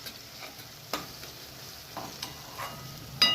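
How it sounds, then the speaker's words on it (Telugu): Ginger garlic paste fries in a pan with a soft constant sizzle, broken by several scraping stirs of a spoon and a louder clatter at the end. "ఈ అల్లం వెల్లుల్లి పేస్ట్ పచ్చివాసన పోయే వరకు కొంచెం గోలనివ్వాలి"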